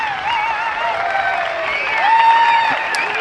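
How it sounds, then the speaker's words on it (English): A crowd at a disc golf tournament, the Swedish Open, gives applause and cheering at moderate distance and swells slightly toward the end, with a commentator's voice heard over it. "Getting the cheers from the crowd, well deserved"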